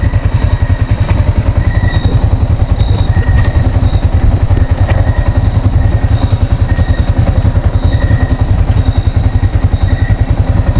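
Motorcycle engine running steadily while riding through a mountain village by a river, a loud, continuous close rumble with rhythmic pulsing throughout and no talk.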